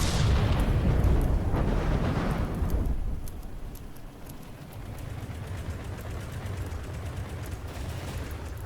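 Rapid gunfire from an airship in the video game From the Depths: a dense, loud roar of overlapping shots and blasts for about three seconds, then a lower rumbling backdrop of continuing fire.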